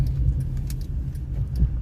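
A rebuilt car drives along with its engine running and the transmission kicking down, a low, close rumble of engine and road noise with faint light rattles above it.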